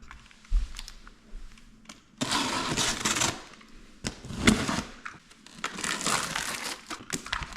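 Packaging crinkles and rustles loudly as a robotic lawn mower is unboxed, with bursts of plastic and cardboard handling, scattered clicks and knocks, and no talking.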